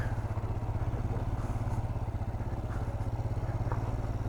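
A motorbike rides off-road beside a large lake, its engine holding a steady, loud low drone throughout with faint clatter over the top.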